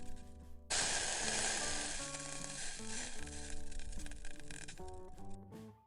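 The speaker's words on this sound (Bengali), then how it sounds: "তারপর 1 চামচ পিঠার ব্যাটার ঢেলে দেব।" A spoonful of pitha batter hits a brushed, oiled kadai with a sudden loud sizzle that bursts in and then gradually fades, while tonal background music plays underneath.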